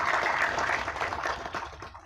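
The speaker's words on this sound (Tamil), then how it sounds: "இந்த மேடையில் கைத்தட்டலாம்." A crowd at a Tamil film event applauds: a broad, rushing wash of clapping that is loud at first and gradually thins and fades over two seconds.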